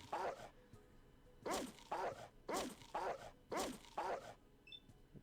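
Dog barks from the video game Fallout, six short yelps in an even rhythm, fairly close and alone with no talk.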